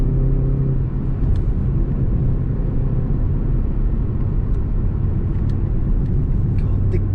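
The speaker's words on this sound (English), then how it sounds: "Now this road, it's really bumpy, it's horrendous, but it's a good test to a suspension." BMW 330i M Sport G20 sedan driving over a very bumpy road, a steady low tire and road rumble with engine drone from inside the cabin, plus a few faint knocks and clicks from the bumps.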